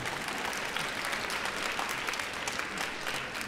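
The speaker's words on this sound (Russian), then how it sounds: "Такие аплодисменты сочувствия" Audience applause at a live jazz trio concert in Nizhny Novgorod, a dense steady wash of many hands clapping throughout, fairly loud and close, with no talking over it.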